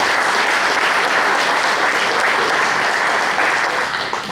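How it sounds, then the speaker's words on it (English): A room of attendees at a touchdown club meeting gives a round of applause for an inducted football coach, loud and dense clapping that holds steady throughout before easing slightly at the end. "So let's give him a round of applause,"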